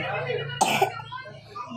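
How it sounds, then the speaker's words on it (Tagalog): A child's single short cough bursts out over a low background hum, followed by quiet room noise. "Inuubo po kasi siya."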